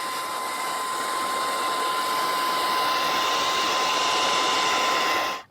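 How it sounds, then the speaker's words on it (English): A hairdryer blows with a constant loud whooshing roar and a thin steady whine, running close for several seconds before switching off, drying a chalk paint painting. "I try to move the water a little with the hairdryer"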